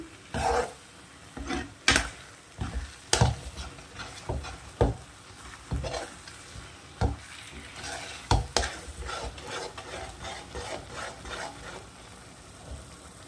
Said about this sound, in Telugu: ఇవి కూడా బాగా కలిసేలా కలుపుకోవాలి.